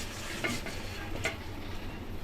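Eggs frying in oil give a low, steady sizzle with a couple of faint utensil taps against the pan, quiet and close, with no voices.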